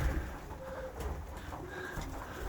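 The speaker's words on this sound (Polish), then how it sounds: "Gołębie jak dziubią śnieg." Pigeons coo softly in a winter loft while pecking at snow, low murmuring calls close by over faint background noise, with no talk.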